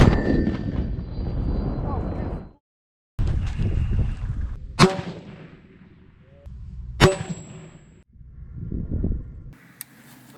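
Two sharp, loud gunshots about two seconds apart at military training shoots in a combat zone, each cutting through a low rumbling background with brief ringing after the blasts.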